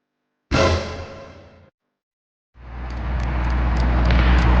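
Porsche car on a road: a loud close whoosh of the car passing fades out, then after a short silence a rising, steady rush of engine and tyre noise builds and holds.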